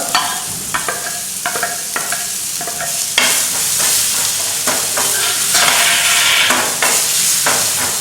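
Green chillies, onions, curry leaves and spices sautéing in a pan for mutton soup, a loud close sizzle that swells midway, with rhythmic scraping stirs against the metal.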